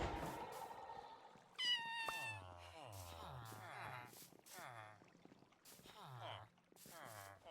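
A kitten in the video game Minecraft meows repeatedly in short, high calls spread across the clip, with game sounds around it and someone talking over it.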